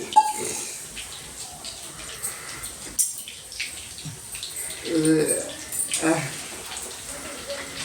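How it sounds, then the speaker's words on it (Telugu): Running water splashes and clatters as dishes are rinsed, in uneven bursts, with a person talking nearby. "కడిగేద్దాం ఈ గిన్నెలు"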